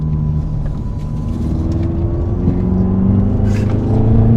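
A rear-wheel-drive BMW M6 Gran Coupe accelerates hard, its engine rumble building steadily and growing louder from inside the car, with no one speaking.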